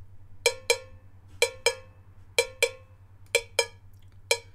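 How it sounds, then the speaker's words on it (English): A brighter, sharper second cowbell in a reggae beat strikes in pairs of quick hits, repeating steadily over a soft low hum, loud and up front. "This cowbell, which is a different sound."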